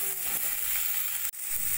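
Thinly sliced raw tomatoes go into sizzling masala in a pan for a mati aloo curry, and a loud, close, steady hiss fills the moment, broken by one brief dip before the frying resumes.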